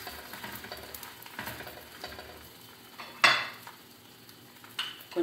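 Chicken stuffed jaalar vada frying in ghee being turned in the pan, soft sizzling under light scraping and clinking of a utensil against the pan, with a sharper metallic knock partway through.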